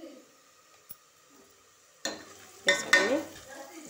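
Turmeric is stirred into mutton curry in a pan: near-silence at first, then spoon scraping, light clinks and a bubbling sizzle begin midway and grow louder.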